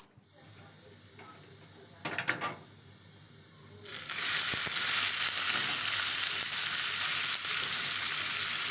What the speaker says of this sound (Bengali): আবারও মাংসের টুকরোগুলো আমি ঠিক এইভাবে ভেজে নেব